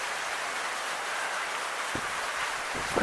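Heavy rain pours steadily in a dense, even hiss, with a few soft thuds standing out near the end.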